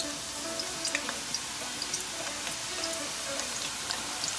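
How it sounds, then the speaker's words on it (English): Onions frying in oil crackle with a steady, faint sizzle, dotted with small pops and spits, with no voices over it. "we're going to fry some onions to make our oil delicious"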